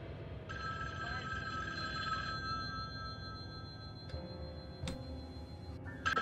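A telephone rings repeatedly inside a fan-made Michael Myers Halloween video game, with bright, steady bell tones over a low background hum and a few sharp clicks toward the end.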